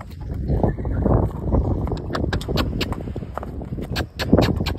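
A horse's hooves clopping steadily on concrete, a close, fairly loud walking rhythm with hollow knocks and faint scuffs, no talking.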